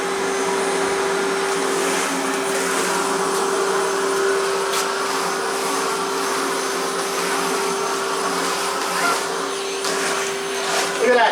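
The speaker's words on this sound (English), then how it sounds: "you guys are watching me vacuum my garage" A Milwaukee M18 cordless backpack vacuum cleaner runs steadily while vacuuming a garage floor, a loud constant whine and airflow roar with small rattles and bumps of debris being sucked up.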